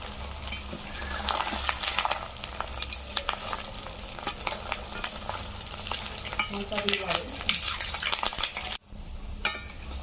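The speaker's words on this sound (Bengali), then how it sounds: "অল্প আছে ঘুরিয়ে ঘুরিয়ে ভালোভাবে ভেজে নিতে হবে" Semolina gulab jamun balls fry in hot oil with a continuous bubbling sizzle, broken by frequent close clicks and scrapes of a spoon turning them in the pan.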